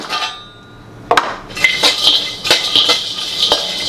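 Almonds roasting in a pan for mutton kuzhambu, heard as bright metallic clinks and rattles of utensil against pan in quick irregular bursts after a quiet start, close and without talk.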